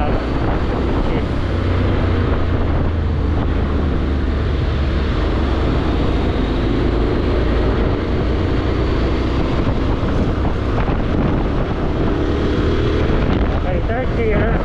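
A 2023 Honda X-ADV 750 motorcycle engine drones steadily while riding, a loud continuous rumble buried in heavy wind buffeting on the microphone throughout.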